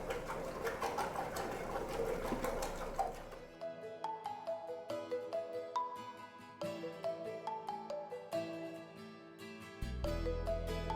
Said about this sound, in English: there's a drum in there, goes round and round, and freezes the product